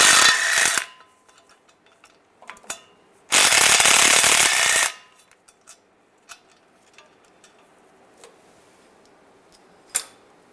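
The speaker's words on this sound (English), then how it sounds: "Using an 11mm socket, take these bolts out." An 11mm socket on a ratchet works bolts loose on a 2007-2013 Chevy Silverado engine during a timing chain job, with two loud bursts of tool noise followed by scattered metallic clicks and light clinks.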